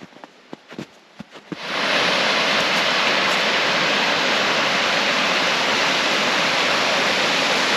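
A waterfall in Hamilton, Ontario, plunging into a pit worn into surrounding ice, bursts in as a loud, continuous broadband roar after a few faint clicks and taps at the start.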